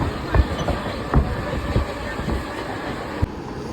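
Passenger train in motion heard from inside a carriage, with a steady rumbling roar and rhythmic clickety-clack of wheels over rail joints at regular intervals, moderately loud and close.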